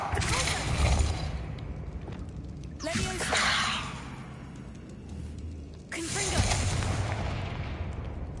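Bombarda blasting spell in Hogwarts Legacy, three loud booming blasts spaced a few seconds apart over a noisy game soundscape, with a voice speaking between them.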